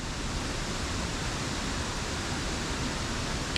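A waterfall in a stream, an even, broad rushing hiss of falling water that stays steady and fairly soft throughout with no other sounds.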